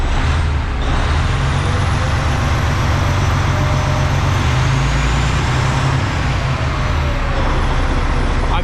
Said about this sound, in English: I can hear the turbo spooling like it's supposed to